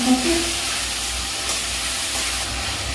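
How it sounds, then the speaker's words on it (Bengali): Grated onion, ginger, garlic and green chili sautéing in hot oil give a steady, loud sizzling hiss that holds evenly throughout, with a brief faint tone at the start. "গ্রেট করা পেঁয়াজ আদা রসুন সহ কাঁচা লঙ্কা ভালো করে কষিয়ে নিচ্ছি মশলাগুলি"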